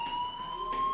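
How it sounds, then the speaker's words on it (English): Steady electronic fire alarm tone ringing throughout in the Life is Strange video game, a continuous piercing buzz at moderate loudness, heard alone. "do you hear that fire alarm? That means you should be outside."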